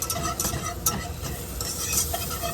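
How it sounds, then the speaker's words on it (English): Flour being whisked into melted fat in a pan to make a roux: quick, continuous scraping and clicking of a whisk against the pan over a soft sizzle, close and moderately loud. "we're going to add 2 tablespoons of flour, and we're going to give this a good whisk"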